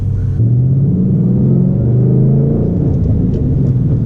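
A 2012 Ford Mustang Boss 302 V8 accelerates hard from inside the car, its deep engine rumble rising steadily and holding loud for several seconds, with no voices.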